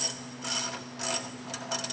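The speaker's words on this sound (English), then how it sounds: "So we're going to then go ahead and tighten up the side bolts now." A ratchet tightens side bolts on a Rhino mounting assembly, giving soft clicking bursts that come in short, repeated strokes over a steady low hum.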